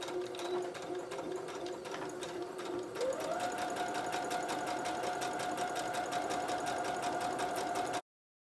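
A sewing machine stitches satin fabric for a reversible bonnet, a close, steady rapid mechanical whir that briefly slows then rises in pitch and runs continuously for about eight seconds before cutting off, with no talking.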